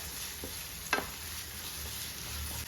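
Chopped vegetables frying in a pan are stirred, giving a soft steady sizzle with one sharper scrape of the spoon, close and fairly quiet, with no talking.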